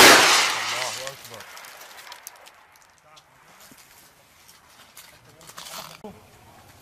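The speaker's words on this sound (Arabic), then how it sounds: "اطلاق صواريخ محليه الصنع خلال الطالب صمود جنود الله" A locally made rocket launches outdoors with a loud roaring whoosh at the start that fades away over a couple of seconds, followed by quieter scattered sounds and faint voices in the background.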